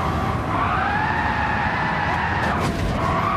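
A Group A race car's RB engine in Gran Turismo 7 wails at high revs, its pitch sweeping steadily upward before dipping briefly and climbing again.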